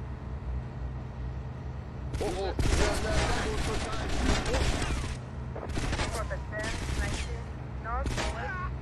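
Rapid bursts of gunfire in GTA Vice City Remastered, loud and dense, crackling in clustered volleys with short gaps between them, while a person speaks over the shooting.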